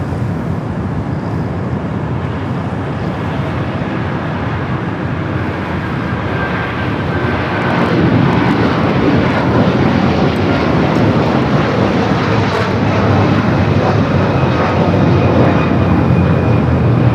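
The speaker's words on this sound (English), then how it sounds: "Hawaiian A330 up next." Hawaiian Airlines Airbus A330 jet at LAX airport, a steady broadband engine roar that holds loud and close, swelling slightly around the midpoint and staying strong to the end with no talk.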